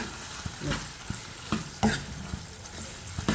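An unripe tomato gojju fries in a pan with a soft, steady sizzle, while a spoon stirs and scrapes in irregular taps close by.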